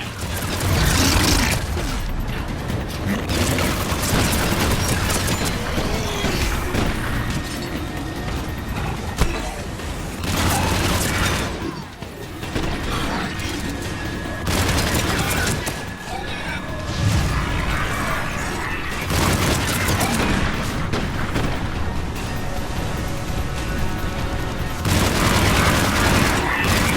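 Gunfire from the Mass Effect 3 video game, dense bursts of shots and booms rolling in repeated waves over a loud battle mix, with occasional voices in between.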